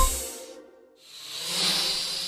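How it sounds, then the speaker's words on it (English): A delivery drone carrying a package: a broad whooshing hiss that fades out, then swells back louder and holds steady, like rotors passing close by, with no talk over it. "That's the sound of a drone delivering an Amazon package right to someone's door."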